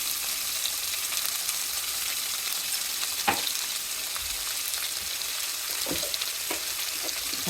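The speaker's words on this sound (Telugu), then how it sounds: "ఈ విధంగా వేగేంత వరకు కలుపుకోవాలి" Ivy gourd slices fry in a pan with curry leaves, turmeric and salt, giving a steady, dense sizzle up close with occasional scraping knocks from stirring.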